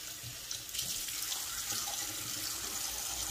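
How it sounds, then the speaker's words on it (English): Water runs steadily from a bathroom tap into a sink as a washcloth is rinsed, with a continuous close splashing hiss and small shifts as the flow is handled. "as I'm turning off the water"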